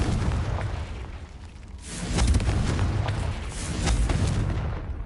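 Confringo blasting-curse explosions in the Hogwarts Legacy video game, fired inside a cave: two heavy booming bursts a couple of seconds apart, loud and close, with crackling debris between them.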